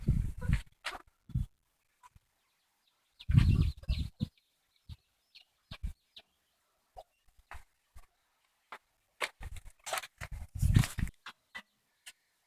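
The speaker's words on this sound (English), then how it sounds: "This is our outdoor chicken run where the chickens like to come and hang out" Mixed-breed chickens cluck and squawk in an outdoor run, scattered bursts of calls separated by quiet gaps, some close and loud, others brief and softer.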